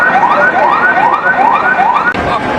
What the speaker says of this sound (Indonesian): telah datang beberapa unit mobil pemadam kebakaran